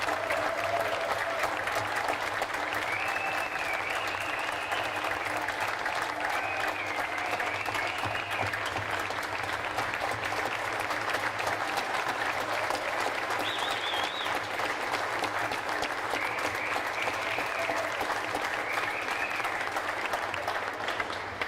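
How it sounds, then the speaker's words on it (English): A large crowd applauds steadily and loudly for Governor Reynolds at the opening ceremonies of the 2021 Iowa State Fair, sustained dense clapping filling the whole stretch with a faint hum beneath. "Please, let's give her a warm round of applause"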